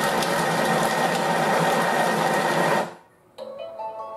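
A Thermomix spins for several seconds to chop salad ingredients, a loud, steady whirring churn that stops abruptly, followed by a brief electronic beep tone from the machine.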